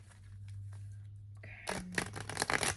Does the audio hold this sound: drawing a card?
yes